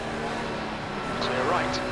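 Race car in iRacing, an IMSA Dallara P217 prototype at Laguna Seca, droning steadily with another car sweeping past alongside, a rising whine near the end, with spotter talk over the engine.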